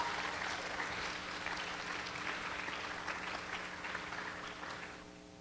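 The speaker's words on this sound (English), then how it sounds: "all girls, give them a round of applause to tell them thank you" Audience of girls at an Expanding Your Horizons event applauding the sponsors, a steady wash of many hands clapping across the whole clip and tapering slightly at the end, no talk.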